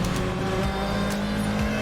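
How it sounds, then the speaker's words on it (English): A Lotus Elise race car running on the Silverstone International circuit during a 750MC Roadsports qualifying session, its engine a steady loud drone heard from on board, with no talk. "And the car fires up, pulls away cleanly, and we're all set again."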